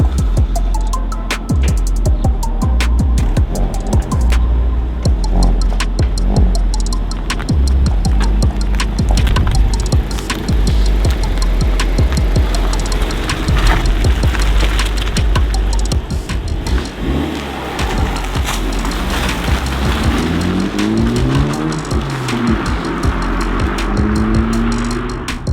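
A Honda Civic Type R FL5 on a test drive produces a constant engine and road roar with repeated ticking and clicking, rising and falling through gear changes, close and loud with no talk.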